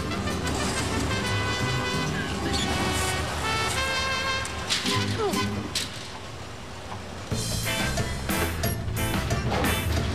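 An old vehicle pulls away with the driver hunting for gears: a loud engine roar rising and dropping as gears change, with a few clunks, a brief lull, and someone talking excitedly over it.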